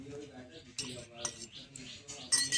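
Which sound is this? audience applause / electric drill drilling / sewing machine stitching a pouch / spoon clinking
spoon clinking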